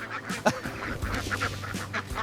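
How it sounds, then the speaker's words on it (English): Thousands of egg-laying ducks feeding on a supplementary meal after a day in the paddy field give a dense, fairly faint chorus of overlapping quacks, with several louder calls standing out. "A flock of thousands of ducks."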